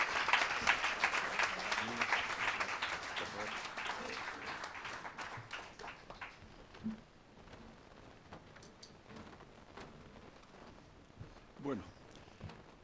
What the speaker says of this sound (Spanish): Un fuerte aplauso para José Menéndez.